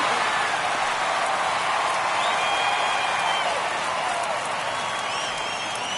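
A baseball stadium crowd at Astros versus Angels on opening day keeps up a steady, dense roar of cheering and chatter in the ninth inning of a one-run game. The noise is loud and unbroken throughout.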